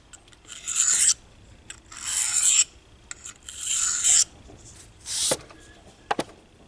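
A knife blade rasps across an Atoma 400 grit diamond stone in four or five separate gritty strokes, each about a second long with short pauses between, close up and clear with no talking.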